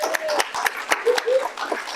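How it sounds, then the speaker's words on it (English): Scattered applause from a small crowd at a library talk, irregular claps close and loud, with a few voices and chuckles mixed in. "While you're applauding"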